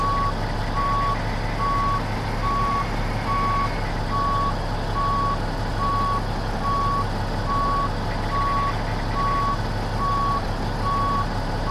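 A truck's reversing alarm in American Truck Simulator beeps steadily in an even, repeating pulse over a constant low engine drone, with no talking.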